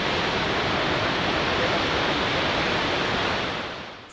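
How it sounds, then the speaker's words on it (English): Murchison Falls in Uganda roars through a gorge, a loud, dense, continuous rush of falling water heard close up, fading slightly at the very end. "The waterfall is flowing between a gorge."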